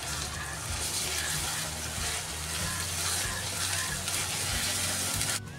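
Chopped onion with ginger and garlic paste frying and being stirred in a pan, a steady close sizzle with scraping stir sounds throughout, ending abruptly near the close.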